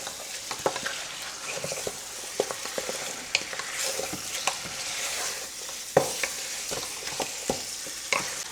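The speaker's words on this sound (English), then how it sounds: "So I'm just going to go ahead and mix it up." Vegetables coated in tomato paste being stirred in a pot for Haitian legume stew, with repeated scraping and clacking of a spoon over a continuous sizzle, close and steady.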